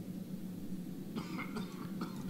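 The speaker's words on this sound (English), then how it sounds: "Okay, the coughing is getting annoying." A character coughing in the horror adventure game Darkness Within, a few faint, brief coughs in the second half over a low steady background hum.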